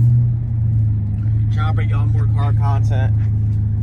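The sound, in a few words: engine noise from a Dodge SRT8 6.4 liter Hemi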